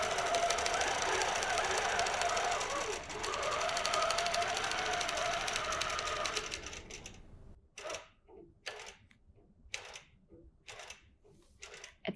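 A QCT6 Plus computerized quilting machine stitches a block design: a steady loud mechanical whir for about seven seconds, then a run of short rapid tie-off bursts separated by brief silences.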